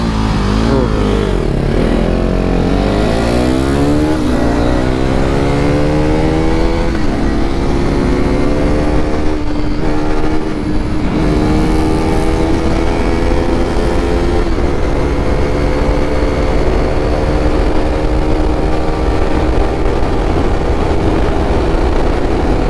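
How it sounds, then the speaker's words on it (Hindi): KTM RC 390 and KTM Duke 250 motorcycles revving before a drag race, loud rising engine whine climbing through the revs, then a sustained high roar held close for a long stretch. "पहले अपनी RPM बढ़ाते हैं"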